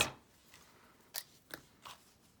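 A few crisp snips of scissors, spaced irregularly and fairly quiet, close by in an otherwise hushed room.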